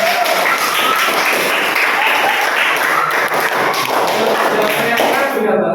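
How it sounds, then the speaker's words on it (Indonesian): A classroom of students clapping together, dense sustained applause at close range filling the whole stretch, with voices mixed in beneath the clapping. "Tepuk tangan buat kalian semuanya."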